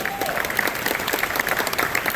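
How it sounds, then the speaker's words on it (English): Applause from top-tier loyalty members at an onboard event on the cruise ship Icon of the Seas, a brisk crowd clapping with distinct individual claps and light cheering voices. "Give yourselves a round of applause."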